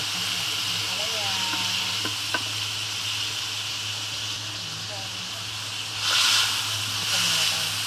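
Ampalaya sautéing in a pan with garlic, onion and tomato: a steady, hissing sizzle runs throughout, with a louder burst of frying near the end and a voice faintly over it.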